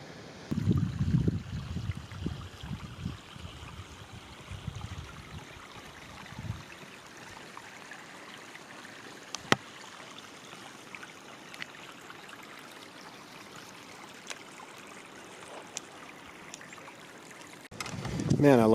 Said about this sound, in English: There's the falls.